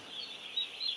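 Broiler chicks on a farm give a faint, thin, high cheeping in one brief continuous burst, with no talk.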